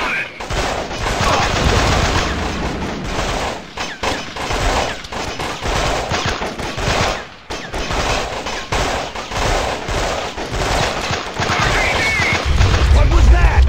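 Sustained gunfire fills a battle in the video game Delta Force: Black Hawk Down, mission Gasoline Alley, with rapid overlapping shots and explosive booms running throughout, loud and dense, with shouted voices mixed in.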